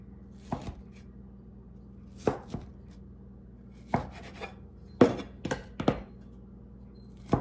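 A knife chops through apple pecan scone dough on a board in a series of sharp, separate thunks with pauses between cuts, close and clear with no talking.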